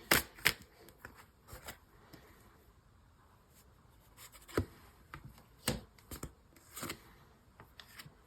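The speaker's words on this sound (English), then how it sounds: "I'm going to pull a couple more cards and see if we can get a little more clarity from this." Tarot cards shuffled and drawn from a deck during a reading, heard as soft scattered card flicks, taps and rubs, with a couple of sharper snaps, close and quiet with no talking.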